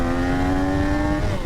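A Triumph Daytona 660 motorcycle engine revs hard and close, with a loud, steady engine note climbing smoothly in pitch, then easing off at the end.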